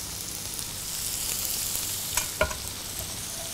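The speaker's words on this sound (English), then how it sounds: "So let's get going with the shallots into the pan" Shallots sizzle and crackle steadily in a pan of hot olive oil, joined by onions and mushrooms, with a couple of sharp stirring scrapes near the end and no one speaking.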